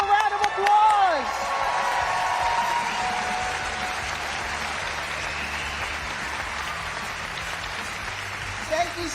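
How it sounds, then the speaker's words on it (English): A banquet crowd applauds award winners at the James Beard Awards, dense sustained clapping that starts loud and stays steady, with a voice and a few whoops over it at first. "Give them a round of applause."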